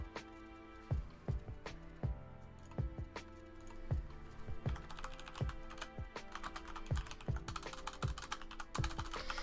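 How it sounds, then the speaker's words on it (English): Typing on a computer keyboard, close and fairly quiet, with irregular bursts of sharp key clicks that grow denser and faster toward the end. "Sorry for my typing."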